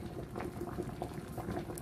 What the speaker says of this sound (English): So the pot is boiling up.